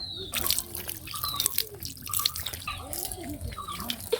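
Water splashing and dripping while hands are washed outdoors in a village, a steady close trickle with scattered drips and splashes.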